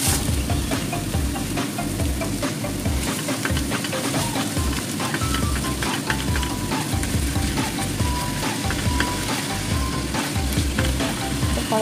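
Ground pork giniling frying in a pan, a loud, close, continuous sizzle with busy crackling and stirring clatter throughout, no voices.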